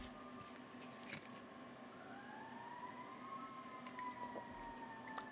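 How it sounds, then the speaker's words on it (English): Fire truck sirens wail across a neighborhood at a moderate distance, a steady rising and falling tone running continuously over a low background hum. "Let me wait for the sirens to be over."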